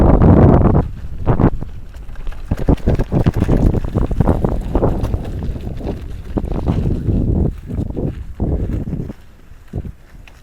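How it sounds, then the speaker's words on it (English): A mountain bike ridden hard around a backyard on an acreage, with loud gusting wind buffeting the microphone, rumbling tyre crunches and rattling thumps at close range, and no voices. "just hoon around on the mountain bike in my backyard."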